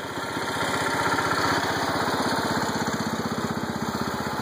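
A John Deere 216 lawn tractor engine runs close by with a steady, throbbing idle whose rapid pulses stay even throughout, and no one speaks.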